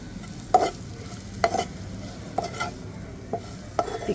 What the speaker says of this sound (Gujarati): એને હલાવી લઈશું